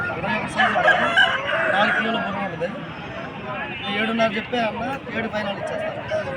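A Nemali rooster crows repeatedly at a busy poultry market in Nallapadu, close and clear above the chatter of people talking and the clucking of other fowl.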